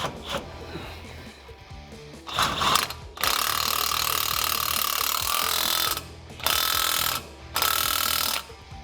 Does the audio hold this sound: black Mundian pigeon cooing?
no